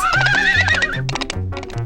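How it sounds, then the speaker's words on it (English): Cartoon horses gallop and neigh, a bright whinnying call over a steady clip-clop rhythm, loud and close with no talking. "Genie and Booba are galloping around the store on the chair horses"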